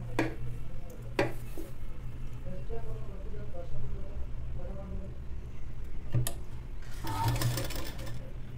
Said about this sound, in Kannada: ಸೊಂಟವನ್ನು ಎಷ್ಟೈತೋ ಅಷ್ಟು ನೀಟಾಗಿ ಸ್ಟಿಚ್ಚನ್ನು ಹಾಕ್ಬಿಡ್ತೀನಿ